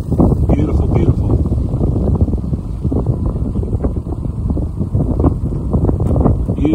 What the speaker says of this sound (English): It's awfully windy today